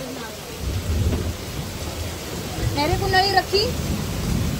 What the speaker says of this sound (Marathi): आभाळ वगैरे पण खूप गडगडत आहे.